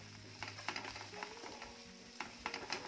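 Okra bhaji being stirred with spices in a pan, a soft sizzle of frying under repeated scraping and stirring strokes, close and quiet.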